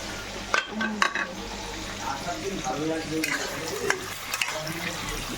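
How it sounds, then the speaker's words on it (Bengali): Food frying in a pot while cooking pulao with chicken chap, a steady crackling sizzle with occasional clinks of a stirring utensil, close and moderately loud throughout. "মোটামুটি এটা ভাজা হয়ে যাচ্ছে দেখতে পাচ্ছ"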